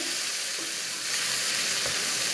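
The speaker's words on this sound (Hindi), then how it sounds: "अब हम इसको भूनेंगे" Steady close sizzling of ground onion paste frying in a pan, a continuous bright hiss with a few soft stirring scrapes, no voices.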